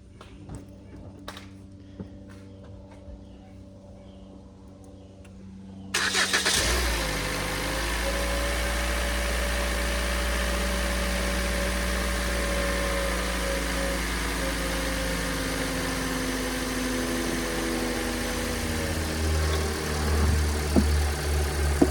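A car's engine cranks and catches, then settles into a steady, loud idle close by that continues alone, with a slight rise in revs near the end.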